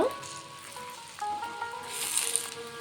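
Kachori frying in oil over a low flame and being turned from side to side, a soft, steady sizzle with faint bubbling and light clinks, brightening slightly near the end.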